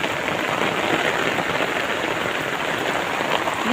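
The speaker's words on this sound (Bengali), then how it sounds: "এত বৃষ্টি, বাতাস ছাড়ছে।" Heavy rain falling on a rooftop garden with wind blowing, a dense, constant hiss of drops striking surfaces, loud and close without letup.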